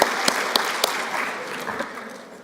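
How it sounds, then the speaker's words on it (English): Applause from a conference audience at a workforce summit plenary, a few sharp claps up front, then a rattling burst that quickly fades. "Big round of applause for people who have mothers."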